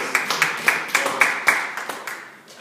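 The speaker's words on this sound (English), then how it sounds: "give him applause" A small workshop audience claps for a man who has just introduced himself, a fairly close ripple of hands with steady beats that gradually thins out.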